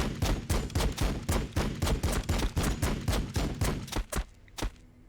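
Rapid bursts of weapon fire from units in the Warhammer 40,000: Battlesector game, sharp loud shots in a fast steady rhythm for about four seconds, then a few spaced final reports and a fading tail.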